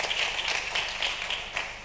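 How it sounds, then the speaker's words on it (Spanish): Audience applause at a business conference for Andrés Ubierna of CDTI, a steady dense patter of many hands clapping at moderate level for about two seconds, with no voices over it. "O sea que un aplauso para Andrés, por favor."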